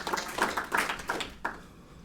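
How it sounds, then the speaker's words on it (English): Scattered applause from a small audience at a Brisbane Laravel tech meetup, irregular hand claps rising and fading over two seconds, moderately close in a room, with a brief burst near the end before trailing off. "So let's give him a round of applause."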